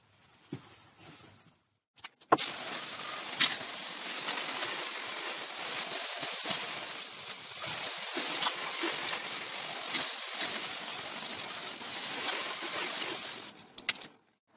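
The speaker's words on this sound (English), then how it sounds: "go get the hose, we'll rinse it off" A hose runs water over the rear wheel arch of a Citroen Saxo VTS, a loud continuous spray and splash that starts abruptly after a quiet moment and cuts off near the end.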